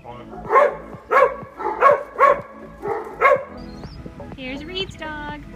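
A dog at home gives about six sharp, close barks in a quick rhythm, then falls quiet as softer noises and a brief whine follow.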